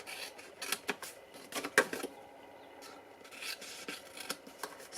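Scissors snipping away paper tabs on a Stampin' Up! candy cane holiday pouch, a few soft close cuts and rustles, quiet with no talking.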